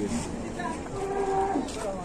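Cattle lowing nearby at a livestock market, a drawn-out moo rising and falling over a steady background of crowd and ambient noise, with faint voices around.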